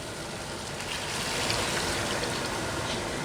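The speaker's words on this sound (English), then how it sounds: "Now I'm just going to cover this with water" Water pours in a steady splashing rush into a cooking pot of instant ramen noodles with leftover roast dinner, a continuous close trickle with no talk.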